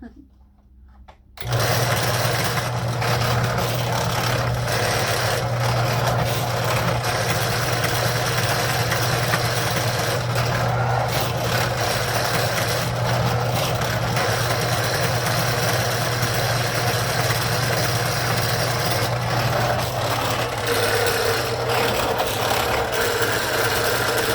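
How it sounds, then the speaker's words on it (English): After a brief quiet moment, a power drill whirs continuously at a steady pitch, loud and close, drilling holes in wooden beehive frame bars, with a constant motor hum throughout. "That's making really quick work out of all of this hole drilling."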